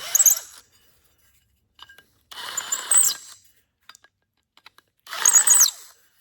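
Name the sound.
chamfer bit deburring edges of a hole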